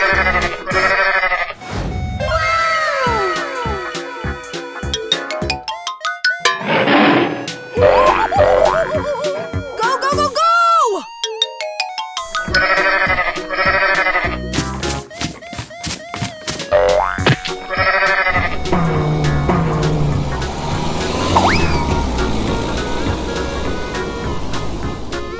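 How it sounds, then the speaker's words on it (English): Cartoonish animal calls, including a sheep- or goat-like bleat, play amid boings, musical effects and splashy sounds in a busy, loud mix of animation sound effects. "Goat."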